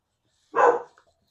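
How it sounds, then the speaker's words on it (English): A single short, sharp bark from a pet dog close by indoors, loud and clear against an otherwise silent background. "what are you barking at"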